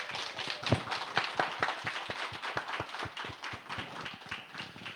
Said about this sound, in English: give a big round of applause for all of our library staff in the room